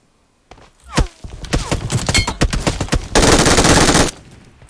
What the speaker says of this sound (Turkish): Ya bir tane yakından sıkan var ya.